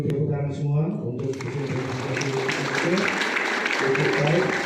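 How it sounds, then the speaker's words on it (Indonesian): A crowd at a school flag ceremony claps after a call from a speaker. Scattered applause rises into a continuous patter lasting several seconds while someone speaks through a loudspeaker. "Kita berikan dulu tepuk tangan semua untuk"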